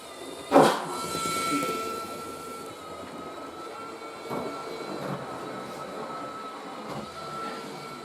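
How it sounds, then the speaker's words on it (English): An electric motor whines in a model railway locomotive, a thin steady tone that runs throughout with a sharp click near the start and a few soft knocks later, close and moderately loud. "I can't say that whine sounds like a diesel hydraulic, but it's an interesting sound."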